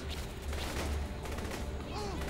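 Rapid gunfire bursts from the video game Saints Row The Third, dense overlapping shots crackling at moderate volume, with a voice talking faintly beneath.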